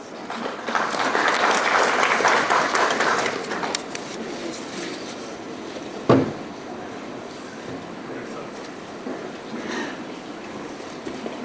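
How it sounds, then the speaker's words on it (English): Audience applause at an agriculture trade fair session, a loud sustained round of clapping for about four seconds that then fades into quieter room noise with a single bump. "So let's welcome with a big round of applause."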